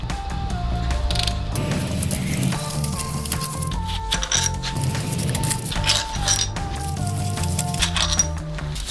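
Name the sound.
ratchet undoing pulley bolts on BMW M135i engine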